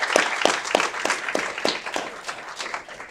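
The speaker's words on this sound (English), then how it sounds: "Round of applause for Disability Pride Month here in Aurora." Applause from the audience at an Aurora City Council meeting, several distinct claps at first, then thickening into a light, scattered round that gradually fades.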